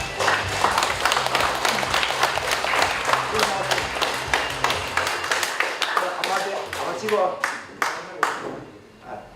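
Audience applause at a book launch celebration for a novel in Korea: a dense burst of many hands clapping fills the room and tapers off near the end, with talking over it.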